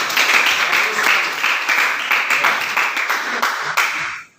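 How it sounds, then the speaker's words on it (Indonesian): Students in a classroom clap together in a loud, close burst of applause with a slightly rhythmic pulse, lasting around four seconds before quickly dying away. "coba silakan tepuk tangan dulu nah bersama kita"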